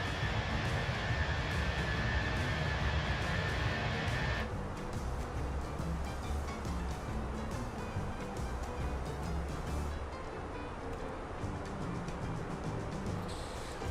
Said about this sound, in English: And our cute little Airbus is just bussing along here.